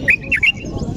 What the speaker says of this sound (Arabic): طائر البلبل